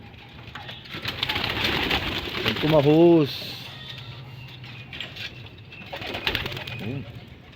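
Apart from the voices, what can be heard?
pigeons cooing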